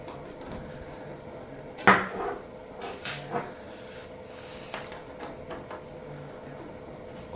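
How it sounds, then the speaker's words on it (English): Two T20 Torx screws are backed out of a small ERA hook case, heard as a few close metallic clinks and clicks with quiet pauses between them. "Remove these 2 screws."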